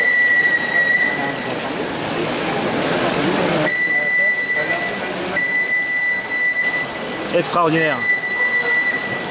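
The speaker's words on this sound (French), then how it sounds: "c'est un sifflet JMC pour information" Several shrill blasts from a JMC whistle on a radio-controlled model steam launch sound in sequence, bright and piercing, separated by short gaps, with a voice briefly speaking near the end and some background rumble.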